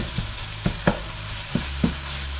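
Egg roll filling frying and drying out in a pan, a steady close sizzle broken by several sharp scrapes and knocks of stirring.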